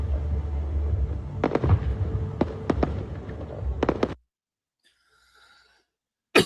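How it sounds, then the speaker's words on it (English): Fireworks display in Japan: a string of sharp bangs and crackles over a steady distant rumble for about four seconds, then near silence, with one final pop at the end. "So there was the fireworks."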